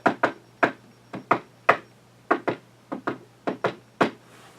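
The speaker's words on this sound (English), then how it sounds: "I knock with a pen." A pen raps on a door in a quick irregular series of about fifteen sharp, close taps grouped in pairs and singles, heard alone over a faint steady hum.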